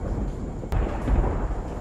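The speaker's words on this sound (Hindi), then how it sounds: "उसी प्रकार मेघ गरज रहे हैं" Thunder rumbles through a monsoon rainstorm in a stage drama, a low steady roll with a sharp crack partway through, loud and close, with no voices.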